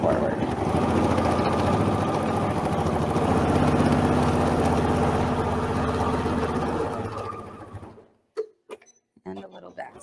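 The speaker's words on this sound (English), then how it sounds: "Do a little back stitch and keep going forward." Sewing machine back stitching along an apron edge made from a tea towel, a steady close whirring stitch run for about eight seconds before stopping, followed by quiet handling clicks.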